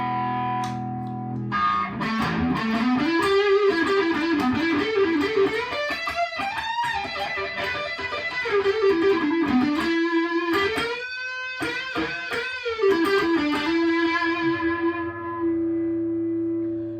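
Heavily distorted Chapman Ghostfret electric guitar on bridge and neck pickups through a Boss Katana amp, with sustained chords and melodic lead lines ringing out continuously, loud and close.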